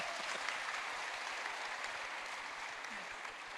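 An audience at a crypto regulation talk breaks into applause, a steady wash of many hands clapping at moderate distance, fairly even in level from start to finish.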